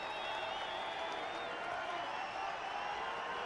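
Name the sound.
baseball stadium crowd cheering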